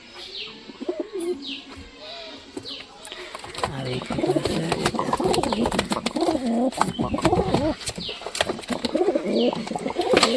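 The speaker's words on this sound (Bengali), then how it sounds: "আমার এই গিরিবাস কবুতর দয়টা ডিম দিছে" Giribaz pigeons cooing at home, repeated low burbling coos close by with chirps and a flutter of wings, growing denser and louder toward the end while a person talks softly.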